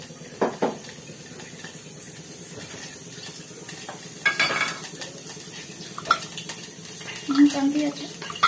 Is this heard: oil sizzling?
yes